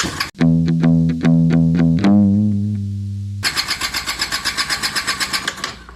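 A vehicle engine is kicked over with a string of rapid, even cranking pulses, catches with a brief loud burst, then settles into a fast, raspy idle with a pulsing rhythm, heard up close.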